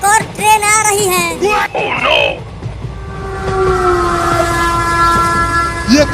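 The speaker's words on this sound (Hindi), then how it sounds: "वो देखो, इसी लाइन पर एक और ट्रेन आ रही है" A train horn blares long and loud as a train approaches on the same railway line, holding steady over a rumbling rail background, with excited voices talking over it at the start.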